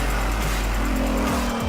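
Virtual Bugatti Vision Gran Turismo race car engine at Le Mans in the Gran Turismo game, a loud continuous low drone that shifts pitch near the end, as if gearing down.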